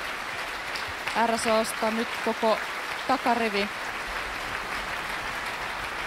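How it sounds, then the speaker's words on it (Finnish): Applause fills a concert hall after an orchestral performance of Mahler's Fourth Symphony at Helsinki Music Centre, a steady even wash of clapping beneath someone speaking. "Paraikaa saavat suosionosoituksia soolopuhaltajat"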